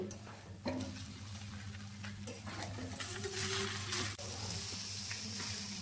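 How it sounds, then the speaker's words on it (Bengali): Egg chowmein frying in a pan gives a steady close sizzle with scraping stir sounds, moderate in level and continuous throughout. "সব কিছুকে ভালোভাবে 2 মিনিট সময় নিয়ে ভেজে নেব।"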